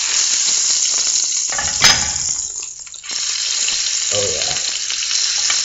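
A Macedonian pljeskavica, a stuffed beef burger patty, sizzling loudly and steadily in an oiled grill pan, close up, with a brief dip partway through and no talking.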